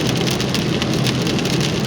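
Heavy, nonstop rain pours on a road during a drive home in Winnipeg, Canada, a dense loud hiss with continuous splashing and no pause.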